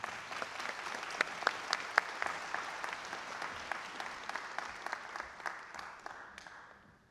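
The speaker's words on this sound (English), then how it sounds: "Please join me in giving all of these special guests a round of applause." An audience at a career and technical education completion ceremony breaks into sustained applause, a dense patter of many hands clapping at moderate distance that fades out near the end.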